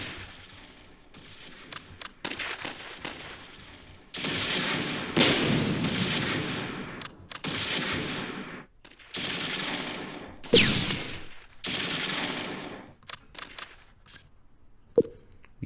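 Machine gun fire from infantry in the Close Combat 3 war game rattles in repeated long bursts, loud and close, separated by short pauses, with a few sharper single shots.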